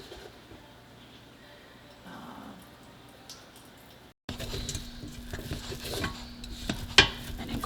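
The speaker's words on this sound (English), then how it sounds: "So I'm going to stir that in here, and then I'm going to cook that." A flour mixture with stock is stirred in a pot, heard as soft scraping and occasional utensil clinks, first faint and then louder and closer after a short cut, under quiet background hum.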